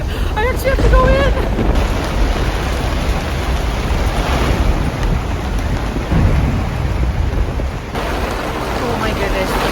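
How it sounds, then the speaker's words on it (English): Heavy rain pounds down in a loud, continuous roar, with a voice speaking over it at the start. "There's so much rain."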